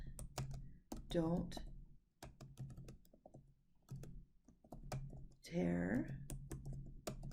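Computer keys clatter in quick irregular bursts as a short note is typed, with someone talking over the tapping in between.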